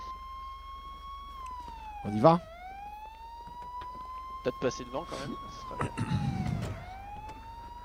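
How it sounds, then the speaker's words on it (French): A police siren in a video game is switched and played with, its wailing tone rising and falling steadily throughout while people talk over it in French, with a few brief bursts of other game noise. "Il est en train de faire jouer avec la sirène."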